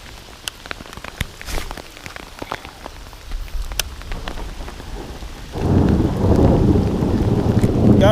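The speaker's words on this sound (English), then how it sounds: "The storm has set in." Heavy rain during a thunderstorm while bass fishing, with scattered sharp drops and cracks at first, then a loud, dense downpour and rumbling thunder that swells and stays strong to the end.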